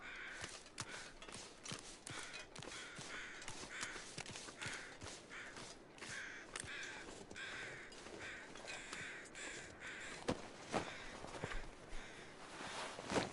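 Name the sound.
crows cawing in the video game The Long Dark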